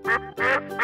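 A duck in a children's animal video quacks three times in a loud, close, evenly spaced sequence, each quack a harmonic honking call with short gaps between.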